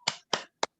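Three sharp, crisp hand claps in a quick rhythmic pattern, close and clear with silence between them, a class clap led by a teacher in an elementary school classroom.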